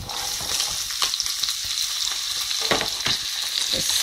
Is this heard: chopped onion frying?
yes